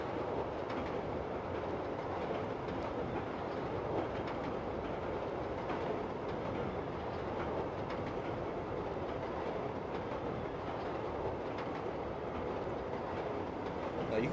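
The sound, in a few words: Chicago Brown Line train running in Train Simulator video game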